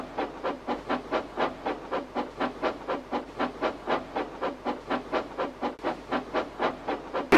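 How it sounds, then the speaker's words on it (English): A heavy steam train pulling out of a station platform chuffs steadily in a fast, even rhythm of puffs, each burst hissing with steam, close by and loud with no voices. "The heavy train drew out of the platform."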